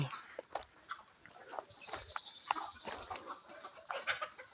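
Chickens in a shed with a cement-sheet roof and bamboo perches cluck softly and intermittently, with a drawn-out higher call partway through, faint and somewhat distant, with a voice talking at times.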